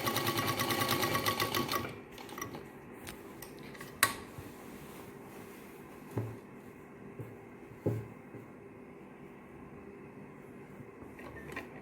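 A sewing machine stitches a chain-zip pocket into a straight salwar, running loud and steady for about two seconds, then stopping, with a few faint clicks and handling knocks afterward.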